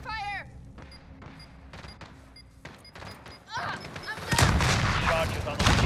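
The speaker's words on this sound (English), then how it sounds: "I'm taking fire!" Gunfire rattles through a video game battle on a special operation mission, starting sparse with scattered shots and thumps and then swelling into dense, loud volleys near the end, while voices shout over the fighting.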